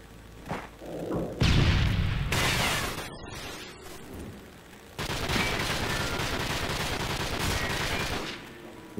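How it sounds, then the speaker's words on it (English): Repeated gunshots ring out in bursts at a campsite, loud cracking volleys with a rumbling low-end, pausing briefly before another sustained stretch of rapid firing. "Some guy's shooting the shit out of this thing."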